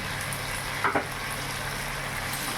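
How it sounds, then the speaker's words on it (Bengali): Ground turmeric, cumin and Kashmiri chilli sizzle in hot oil for a Bengali fish kalia, a soft steady frying hiss with a couple of brief stirring scrapes partway through. "আর কিছুক্ষণ মশলাটা আমি কষিয়ে নেবো, যতক্ষণ না মশলা থেকে তেল ছেড়ে দিচ্ছে"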